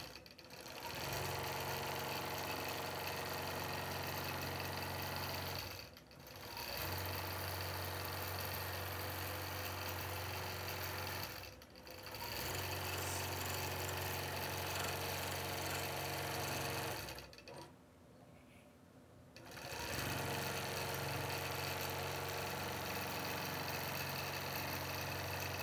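A quilting machine hums steadily as it stitches circles and crosshatching across a quilt block, a mid-pitched motor drone that runs in long stretches with three brief pauses.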